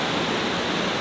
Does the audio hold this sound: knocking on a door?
no